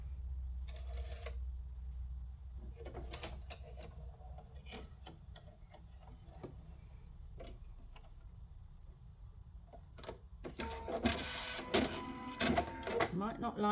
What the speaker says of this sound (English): Now I'm going to sew right between them two with a bit of luck.